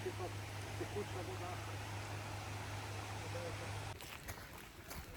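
Steady broadband rush of a flowing river fills the clip, with a low constant hum underneath that cuts out near the end as the water noise continues.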